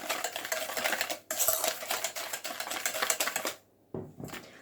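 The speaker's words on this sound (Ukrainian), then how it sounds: "перемішую вінчиком." Rapid, steady metallic clicking of a whisk beating salt and vanilla sugar in a bowl for orange cookies, close and continuous, with a brief pause near the end.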